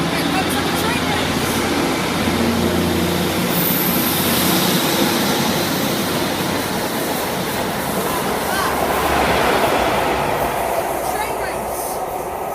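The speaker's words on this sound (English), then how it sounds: "Also a Great Western Railway service coming. It's a HST." A Great Western Railway HST passes at Dawlish on the Great Western Main Line, a loud continuous roar and rush of wheels and engines that holds steady throughout, with wind noise and no clear talk.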